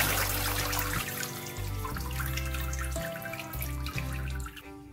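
Purple cẩm leaves being rinsed by hand in water, with running water, splashes and drips near and steady in a kitchen sink.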